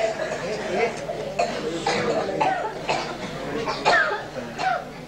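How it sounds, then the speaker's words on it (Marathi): Several coughs break out one after another during a Sahaja Yoga meditation session, close and fairly loud over a murmuring room with voices in the background. "बघा तुम्हाला खोकला आला, बघितलं ना."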